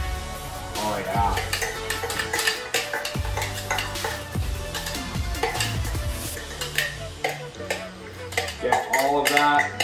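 Green curry paste for a Thai green chicken curry is stirred in a pot, with continuous scraping and clinking of the utensil against the pot that stays moderately loud throughout.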